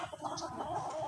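A chicken clucks briefly and softly in the background, a short burst of low throaty sounds, as the bird is called over for feeding.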